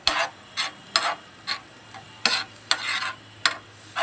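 A spoon scrapes and stirs milk curd (chhana) with sugar syrup in a pan for sandesh, making regular soft scraping strokes about twice per second, close and clear with no talking.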